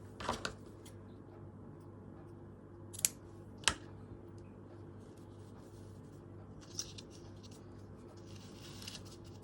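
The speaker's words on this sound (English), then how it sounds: "I'm just going to go to the inside and snip one off here" Scissors snip off thread during slow hand stitching. A few faint, close, crisp clicks stand out against quiet room hiss, with light rustling in between.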